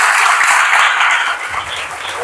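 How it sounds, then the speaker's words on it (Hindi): Congregation at a Sunday church service applauding enthusiastically for a servant of God, loud continuous clapping with some voices mixed in. "जोरदार तालियां खुदा के बंदा के लिए।"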